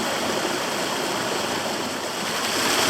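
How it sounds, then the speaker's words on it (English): A small rill of meltwater runs off a hillside beside a snowy Adirondack trail in winter, giving a steady, close, full rushing babble that never lets up. "we have a pretty little rill running off the hill."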